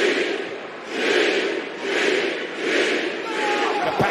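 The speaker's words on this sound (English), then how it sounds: "City crowd in Greenville." A large wrestling arena crowd in Greenville roars during a King of the Ring quarterfinal match on Raw, rising and falling in loud rhythmic waves like a chant.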